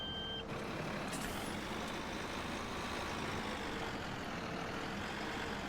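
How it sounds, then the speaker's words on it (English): Farm vehicle engine turning over and running in Farming Simulator, a steady broadband mechanical rumble with a faint high beeping at the start, loud and continuous with no talk. "Start up our engine."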